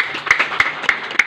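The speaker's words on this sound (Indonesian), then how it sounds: "Beri tepuk tangan mohon untuk hadirin untuk kedua." An audience at a neighborhood RW election in Indonesia claps in a brief, steady burst of rhythmic applause, heard close and clear.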